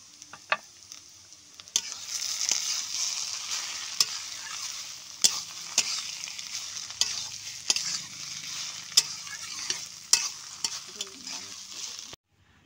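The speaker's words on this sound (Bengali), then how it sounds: "চাল কুমড়োটা আমার প্রায় হয়ে এসেছে, আমি এর ভেতরে নারকেল কুড়িটা দিয়ে দেব।" Ash gourd fries with grated coconut in a pan, a soft steady sizzle punctuated by frequent sharp scrapes and clacks of a utensil stirring, close and distinct, with no talking.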